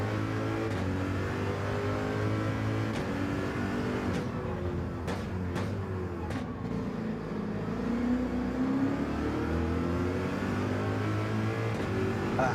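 Pack of Gr.3 race cars in Gran Turismo 7 droning and revving together during a lobby race, a steady engine roar with pitch rising and falling as cars jostle, loud and constant throughout.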